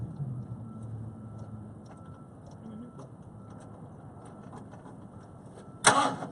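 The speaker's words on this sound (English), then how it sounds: "start it up right now. I turned the throttle up a little bit." A car engine, just converted from a carburetor to Holley Sniper EFI, runs at a steady low idle with the throttle raised slightly, then a sharp, brief burst of noise near the end.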